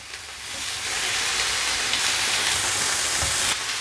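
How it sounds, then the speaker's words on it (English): Burgers sauteing in a pan over medium-high heat make a strong, even hiss of sizzling fat that swells after a quieter start and holds steady. There is no speech. "I'm gonna go ahead and start sauteing the burgers."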